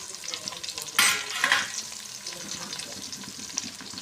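Onions added to a pan where garlic is already frying, giving a sudden loud burst of sizzling that settles into a softer crackle with light stirring, with no talk.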